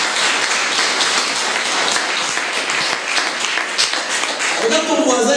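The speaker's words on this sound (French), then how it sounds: "Nous acclamons la parole de Dieu." A church congregation applauds and acclaims after a prayer, steady loud clapping filling the space throughout, with voices mixed in under the applause toward the end.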